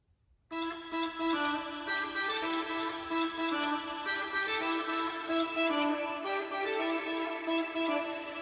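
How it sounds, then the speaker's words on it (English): A synth built from a chopped-up sample of a human voice plays the main riff, a bright, dense, sustained line of layered tones that starts abruptly after a brief silence and continues loud and steady throughout. "But it's just like chopped up, so it sounds like this synth."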